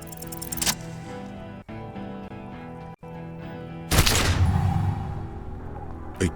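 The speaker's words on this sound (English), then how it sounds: "A plume of smoke and fire erupts from the gun, and your hand goes numb from the explosion." A single gunshot from a handheld gun in Disco Elysium cracks out loud and sudden, bursting over a sustained tonal music bed and then ringing off.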